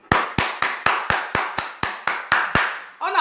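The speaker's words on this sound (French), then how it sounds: "On applaudit pour le souverain premier" Eleven sharp single claps ring out at a steady, even rhythm, close and loud, honouring the souverain premier during a school-year fundraising drive, and a brief voice follows at the end.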